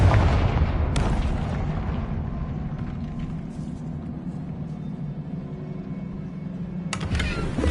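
A Confringo blasting spell goes off in the Hogwarts Legacy video game as a sharp burst, then a long low rumbling roar, with another crack about a second in and a fresh bright blast near the end.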